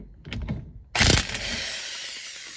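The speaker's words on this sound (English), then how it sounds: "So I'm gonna get my impact wrench and we'll take this off." An impact wrench spins off the 27 mm steering wheel nut on a 1968 Volkswagen Beetle, a short loud burst of hammering rattle after some light handling clatter, close up, then fading into a steady hum.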